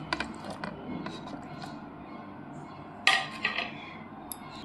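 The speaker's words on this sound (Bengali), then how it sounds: "এবার আমি এর মধ্যে পনিরটাকে ঢেলে দিচ্ছি।" Small cubes of paneer are tipped into a large bowl, a few faint clinks and soft knocks of container against bowl, one sharper clink partway through, quiet and close.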